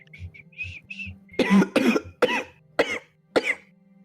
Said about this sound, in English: Oh goodness, I think he's coughing up a lung